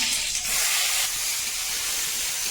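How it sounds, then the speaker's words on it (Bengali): Green chili and bay leaves sizzle in freshly poured hot oil in a home kitchen, a steady, close, bright hiss that holds evenly throughout with no talking. "এবার তেলটা ঢেলে নিয়েছি দিয়ে ওর মধ্যে লঙ্কা আর তেজপাতা দিয়েছি"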